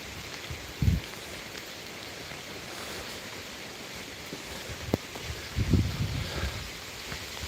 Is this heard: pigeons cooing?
no